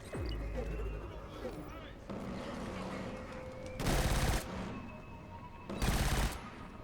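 Automatic weapon fire in Killzone Shadow Fall, an OWL drone set to machine gun mode, loosing two short, loud bursts amid continuous game ambience and rumble.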